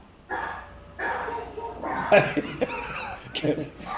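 A dog barks in the background of a town select board meeting held online, with several short, moderately loud barks and yips spread through the clip under and between people talking.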